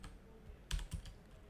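Quiet keystrokes on a computer keyboard while coding an Express and Node.js app, with a brief burst of two or three clicks rising above a low room hum.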